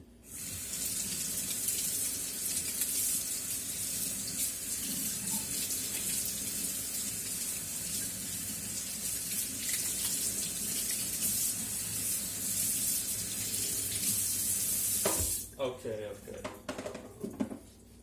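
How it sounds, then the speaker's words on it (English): Tap water running to rinse a bowl in a home kitchen, a steady close splashing stream that goes on for a long stretch, then cuts off abruptly near the end with a few clinks. "I'm gonna rinse it now"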